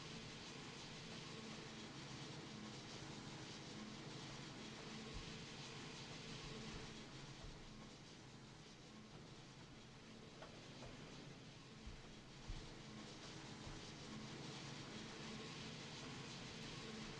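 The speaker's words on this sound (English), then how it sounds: "So if there's any Class 70 fans out there, or people who know this train, let me know if those sounds are accurate or not." A Class 70 diesel locomotive in Trainz Simulator 3, hauling container wagons, gives off a faint, constant engine drone with a steady rail rumble and a few soft knocks.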